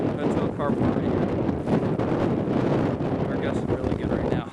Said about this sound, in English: intense winds right through the hotel carport right here